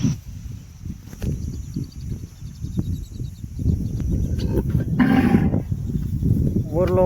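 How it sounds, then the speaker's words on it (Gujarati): Water buffaloes moo in an open rural grazing setting in Gujarat, with one low, drawn-out moo rising midway over a steady outdoor rumble of hooves and background noise. "હામી આવી ભેંસ્યું"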